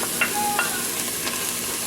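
A spoon stirs cream of shrimp soup into a pot of chupe de camarones, giving soft, steady scraping and swishing with faint sizzle in the background over a short stretch.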